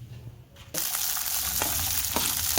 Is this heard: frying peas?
yes